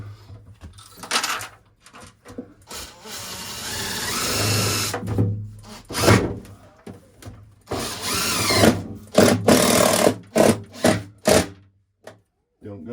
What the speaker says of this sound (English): So then we just screw this urinal into place